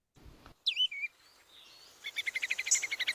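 A bullfinch, the red-breasted songbird, gives a few short whistled notes followed by a rapid series of chirping pulses, close and fairly quiet with silence around them.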